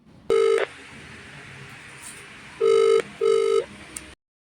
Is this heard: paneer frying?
no